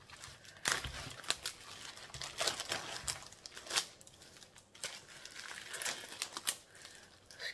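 A plastic bag of potting soil is opened up close, giving irregular crinkling, rustling and crunching sounds throughout, fairly faint and with no talk over it.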